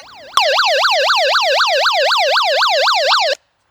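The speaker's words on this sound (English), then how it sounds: "an alarm, once again, to draw attention to yourself if you've had some kind of accident" An SOS alarm from a Tivdio HR-11S emergency radio: a loud, rapid warbling siren that sweeps up and down about a dozen times in three seconds, heard alone and close with an abrupt start and stop.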